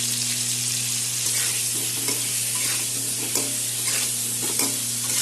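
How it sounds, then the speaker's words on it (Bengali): Potatoes frying in hot oil for a Bengali chicken curry, with a steady broadband sizzle throughout and intermittent scraping clicks of a spatula stirring them in the pan, plus a low constant hum underneath. "পেঁয়াজ টমেটো ঠান্ডা হতে হতে আমি আলুটা ভাজা করে নিচ্ছি।"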